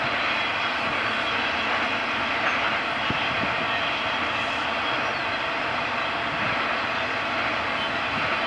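A train rumbles past in a broad, steady roar of wheels and cars, continuous and moderately distant, with no talking.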